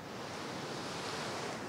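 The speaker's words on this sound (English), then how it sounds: "just when you think about crashing off the waves, like you hear right there" Ocean waves crash and wash onto the shore in a steady, dense rush of surf, heard faintly at a distance with no voices.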